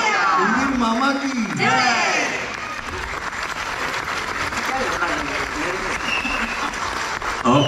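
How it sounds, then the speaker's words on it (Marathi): An audience claps and cheers after a Ganeshotsav cultural performance by a Maharashtrian community group in Stavanger, Norway, a sustained burst of applause mixed with loud excited voices and whoops close by. "प्रेक्षकांच्या टाळ्या सांगतात परफॉर्मन्स कसा झालेला आहे."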